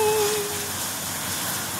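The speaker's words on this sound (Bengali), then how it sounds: "তাই জানলাটা খুলে দেখি ও মায়ের মুষলধারে বৃষ্টি পড়ছে" Heavy rain pours down steadily at dawn, a dense, even wash of broadband noise close by, with a faint tonal whine fading out early and no talk.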